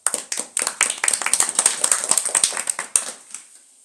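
A small audience clapping during a spiritual talk, a quick dense run of close hand claps lasting a few seconds before tapering off.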